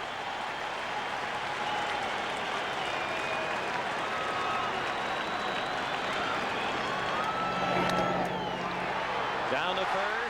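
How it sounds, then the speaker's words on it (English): A baseball stadium crowd at a 1993 NLCS playoff game between the Braves and Phillies cheers and applauds in a steady, dense roar, with a broadcaster talking over it. "for the first time tonight, the crowd is into it"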